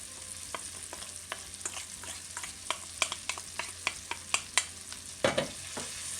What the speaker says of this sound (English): I'm going to add in our drained corn.